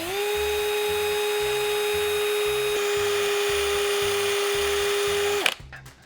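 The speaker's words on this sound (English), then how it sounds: "I'm drilling, not getting anywhere." A power drill whines at a steady high pitch, boring holes in a 1949 Indian Scout motorcycle fender, running continuously for several seconds before cutting off abruptly.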